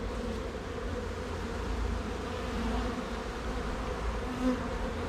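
Honeybees buzzing inside an opened beehive honey super, a steady dense hum held close throughout with a slight swell near the end.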